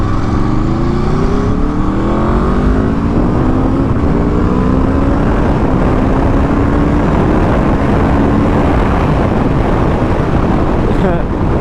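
A 2021 Aprilia RSV4 1100 motorcycle engine revving and pulling through the gears while riding, its rising pitch sweeping upward repeatedly under heavy, constant wind roar close to the microphone.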